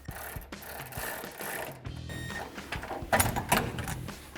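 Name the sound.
tightening exhaust bolt with 14mm wrench and socket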